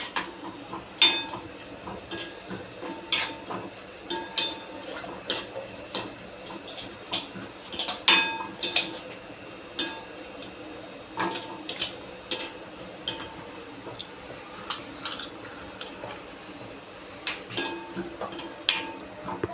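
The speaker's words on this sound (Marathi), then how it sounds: "ते खोबरं आपण चांगलं भाजून घ्यायचं" Coconut dry-roasting in a pan with no oil, heard as a quiet scrape and repeated metallic clinks of a spatula against the pan, irregular taps spread across the whole stretch with faint kitchen background.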